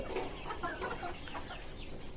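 Caged chickens in a farm on the roof of a five-storey house cluck softly in overlapping short calls over a steady low background, heard at a distance.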